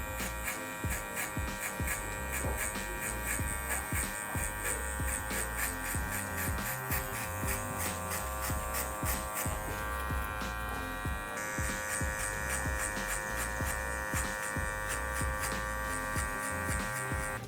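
Hair clippers fitted with a 1 guard, lever open, buzz steadily through hair, a continuous close electric drone with shifting pitch and rapid stroke-by-stroke scraping texture, no voices.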